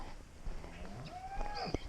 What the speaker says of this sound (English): Okay, let me see if I can get this close-up of this cow.